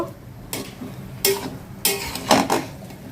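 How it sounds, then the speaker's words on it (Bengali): Stirring fried onion into a vegetable curry in a pan: a few separate scraping, clattering strokes of a spoon against the pan, close and fairly loud, with quiet gaps between. "পেঁয়াজটা ভেজে জাস্ট এটা মধ্যে ঢেলে দিলাম এখন হচ্ছে ভালো করে নাড়াচাড়া দিয়ে নিব"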